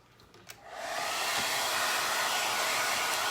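A hair dryer switches on and blows steadily to dry paint on a floral artwork, a loud close hiss that ramps up within a second and then holds constant, with no talking.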